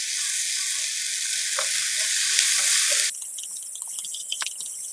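Potatoes stir-fried in a pan for black bean noodles, a continuous sizzle with occasional stirring scrapes, cutting to quieter, thinner frying near the end.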